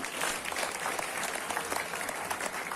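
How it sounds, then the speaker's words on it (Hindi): Dense, continuous applause from a sizable audience, many hands clapping steadily throughout with no clear break. "तालियां तो आप लोग दिल से बजा रहे हैं"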